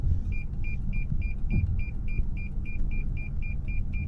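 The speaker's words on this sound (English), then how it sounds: "You also have parking sensors here as well, as you can see." A 2019 Lexus UX 200 crossover's parking sensor sounds a steady run of evenly spaced short electronic beeps, about three per second, over a low idling car rumble inside the cabin, with no talk.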